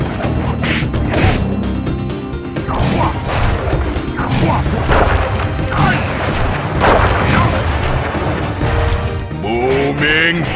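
A cane strike called the booming chop from the Sly Cooper video game hits with loud, repeated smashing crashes and thuds amid dense game effects and music, with a voice calling out over the action.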